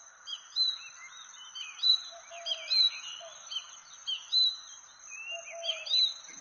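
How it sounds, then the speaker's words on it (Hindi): A cartoon sparrow and crow chirp in a Hindi animated story, with bright, high tweets repeating in quick irregular bursts over a faint steady background hiss. "कालू कौवा लाडो चिड़िया के नए घर को पेड़ पर रख देता है"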